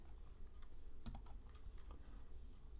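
Faint, sparse clicks from a computer keyboard, with a short burst of key taps in a quiet room.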